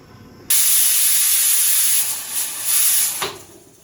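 A pressure cooker on a rural Bengali stove vents steam while cooking masoor dal with bottle gourd greens, a loud close hissing whistle bursting on abruptly, holding for nearly three seconds with a brief dip, then cutting off.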